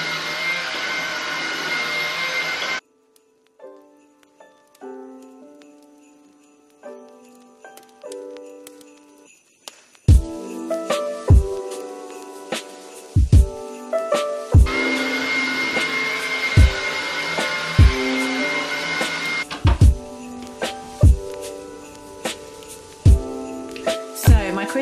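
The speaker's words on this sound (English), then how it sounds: "just quickly run the Hoover over before I get the tree up" A Hoover vacuum cleaner runs in a living room with a loud, steady whine and rush that cuts out briefly and then returns, broken by repeated sharp bumps and knocks as the machine is pushed around.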